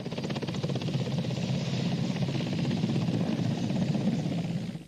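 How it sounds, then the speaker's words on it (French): A Chad Air Force helicopter on the runway at Iriba airport gives off a loud, steady rotor thrum and engine whine that holds constant and close throughout. "l'hélicoptère de l'armée de l'air tchadienne transportant le chef de l'État Idriss Déby Itno s'est immobilisé sur la piste de l'aéroport d'Iriba"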